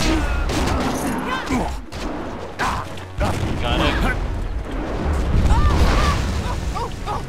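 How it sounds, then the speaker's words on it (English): Cannon blasts and combat bursts from the video game Jade Empire, loud and dense with booming impacts, under a voice that talks over the action. "I hate that cannon thing."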